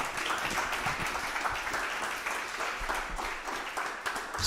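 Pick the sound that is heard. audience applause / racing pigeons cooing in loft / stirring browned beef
audience applause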